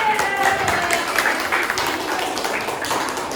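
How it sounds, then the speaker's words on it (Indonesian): Students in an Indonesian class applaud their classmates, a dense, even round of clapping that fills the whole stretch with a little speech underneath. "Ya, tepuk tangan untuk teman-teman"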